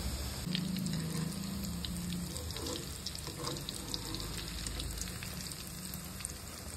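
Onion pakoda batter fries in hot oil in a kadhai with a steady, close sizzle that holds evenly throughout and has no talk over it.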